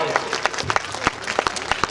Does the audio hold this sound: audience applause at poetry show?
yes